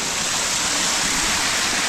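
Water from a mountain stream on the Netravathi Peak trek spills and pours in a continuous loud, close rush, with no voices.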